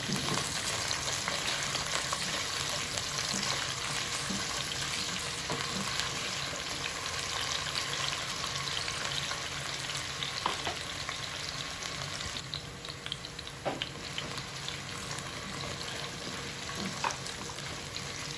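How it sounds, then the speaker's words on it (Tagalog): Oil sizzles and crackles steadily as chunks of potato and carrot fry, with a dense, continuous bubbling hiss and occasional louder pops. "pag mainit na yung mantika, unahin natin itong patatas at carrots. Bahagi natin siyang i-prito muna."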